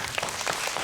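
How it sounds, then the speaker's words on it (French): An audience at a children's Christmas storytelling show claps in a brief, dense burst of applause, moderately close, with no voices. "Ryan, on l'applaudit?"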